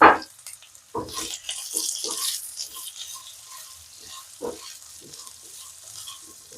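Potatoes for aloo posto tipped into a hot pan: a loud clatter at the start, then irregular stirring scrapes and knocks over a light sizzle, with no voices.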